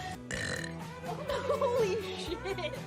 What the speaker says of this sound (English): I've got a burp.